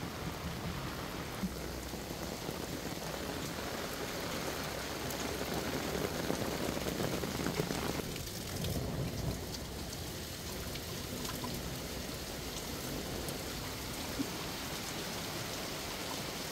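Heavy rain pours down during a storm in Taiwan, a loud, dense and steady hiss of downpour that drums on nearby surfaces without pause.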